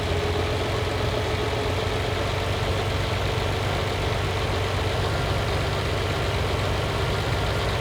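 A Lamborghini 350 GT engine idles steadily while its mixture is adjusted weak, a continuous deep rumble with an even low throb and no voices, holding at a constant level throughout.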